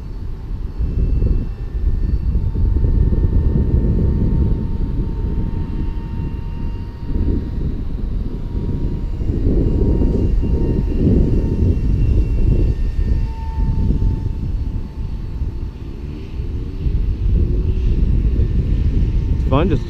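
An E-flite UMX Habu S radio-controlled electric ducted-fan jet cruises at half throttle in gusty wind, giving a continuous, fairly loud whine over rumbling wind noise.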